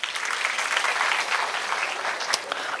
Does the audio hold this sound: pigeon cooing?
no